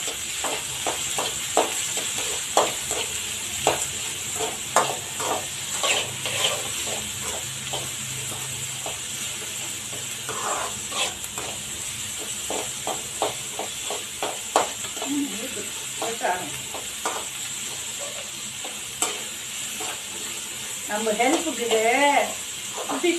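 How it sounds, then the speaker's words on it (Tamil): Onions and chicken curry ingredients sautéing in a pan for a home-style chicken kuzhambu, giving a steady sizzle with repeated scraping stirs. Voices talk over it throughout. "நல்லா வதக்குவோம்"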